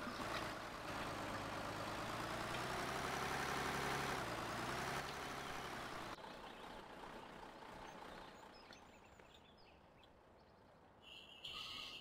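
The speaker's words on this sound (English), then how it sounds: "Now wait a while for the truck to start." A truck engine in Farming Simulator 2013 cranks and settles into an idle, a loud droning rumble with a wavering pitch in the first half, then a quieter, rougher idle fading lower with small clanks near the end.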